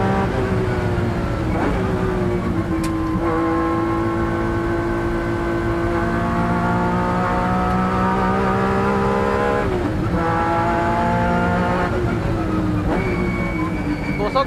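Honda NSX race car at Le Mans in 1994, heard from inside as a loud, continuous engine note holds steady with several upshifts and brief revving dips between gears, the roar never letting up.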